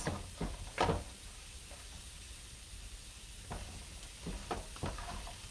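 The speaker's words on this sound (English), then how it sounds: "now you're going to mix that up with the bacon pieces" Shredded cabbage being stirred with bacon pieces in a hot pan, several scraping stirs and soft sizzling, close and fairly quiet, with short bursts separated by a low frying hiss.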